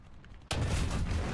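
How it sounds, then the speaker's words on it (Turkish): A heavy cannon shot in a tank combat game, a single loud, close blast that hits abruptly and rolls on as a sustained, booming rumble. "Yandan hit mermi atıyorum be adam"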